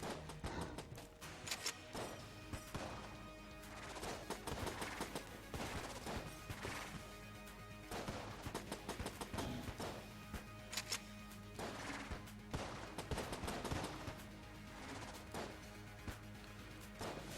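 Gunfire in Enter the Gungeon, with sharp shots and impacts spaced out in irregular bursts over game sounds and music, moderately loud throughout, no voices.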